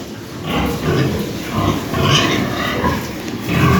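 Pigs grunt and snuffle close by, a continuous series of low, rough grunts rising and falling.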